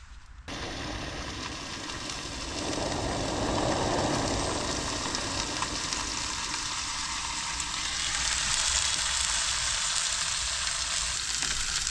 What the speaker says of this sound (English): I'm just going to cook a burger with some mushrooms and some Dutch cheese.